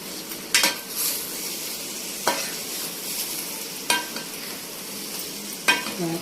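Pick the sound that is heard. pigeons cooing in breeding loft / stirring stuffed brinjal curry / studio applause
stirring stuffed brinjal curry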